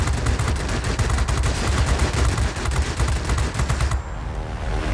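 Rapid, sustained aircraft cannon fire from a fighter plane in the World of Warplanes game, loud and continuous bursts of dense gunfire that run for several seconds before easing slightly near the end.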